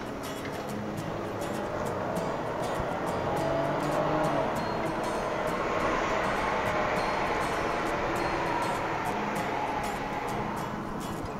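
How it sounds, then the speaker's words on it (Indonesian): A BMW E39 sedan's engine revs and accelerates hard during a power test, a loud steady roar that swells and holds for several seconds with no talking. "Nah sekarang kita mau coba tenaga dari mobil ini ya"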